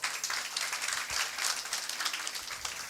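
A church congregation applauds, a dense patter of many hands clapping steadily at moderate distance, alone and fairly faint.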